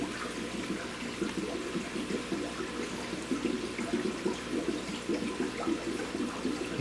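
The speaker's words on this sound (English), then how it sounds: "I can hear the air bubbles in there" Steady bubbling and gurgling water from a freshly started Fx6 canister filter on a 125-gallon aquarium, air bubbles churning continuously at close range with no talking.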